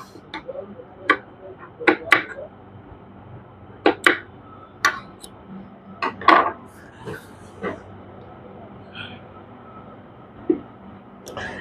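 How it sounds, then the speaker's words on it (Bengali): Scissors snip off excess fabric while a trouser cuff with a fabric border is sewn, giving a dozen or so sharp, separate clicks at uneven intervals over a quiet room. "আমি বেশি অংশটুকু কেটে দিচ্ছি।"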